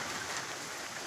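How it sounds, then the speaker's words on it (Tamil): Steady rain falling outdoors, a soft continuous hiss of drops with no break, fairly faint and alone. "மழையை பாருங்கள். இந்த மழையில் தான் நானும் கேமரா எடுக்கேன்."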